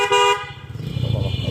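A motorbike horn gives one short, loud honk in jammed traffic, followed by the close, pulsing putter of the idling engine.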